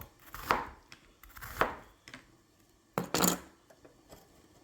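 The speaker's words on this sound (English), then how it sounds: "That was a big onion. That's a real big onion. I gotta cut this even more." A knife chops through a very large onion in a kitchen, giving three or four loud, separate cutting thunks a second or so apart, with quieter board clatter between them and no talking.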